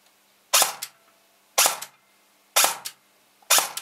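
A Swiss Arms Cybergun airsoft gun fitted with an ECU V2 fires in semi-auto: four sharp, close cracks, each with a quick mechanical rattle, spaced about a second apart against near silence.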